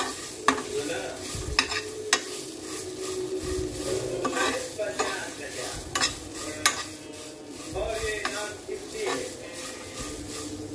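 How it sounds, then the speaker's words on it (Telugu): Garlic frying in a little oil in a pan, with steady sizzling under repeated scraping and stirring clicks of a utensil, close and moderately loud. "ఇప్పుడు వెల్లుల్లిపాయలు వేసి వేయించుతున్నా"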